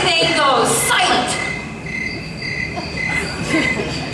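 Crickets chirp in steady high trills inside a Universal Studios Hollywood theme park attraction, running through the whole stretch beneath a background voice and rumbling ride ambience.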